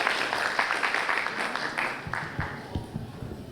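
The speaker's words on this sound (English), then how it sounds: "Please give a warm round of applause for Raina." Moderate audience applause at a convention welcoming a student speaker, a scattered patter of claps that thins out into individual claps toward the end.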